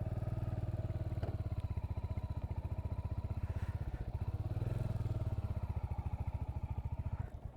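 A Royal Enfield Hunter 350 motorcycle rides along with a steady, loud, close single-cylinder thump and a brief lull in the throttle midway.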